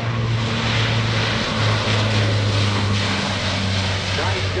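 An Air Force aircraft rolls for takeoff at the Rhode Island Air National Guard open house and airshow, a loud, steady engine roar that fills the whole stretch without a break.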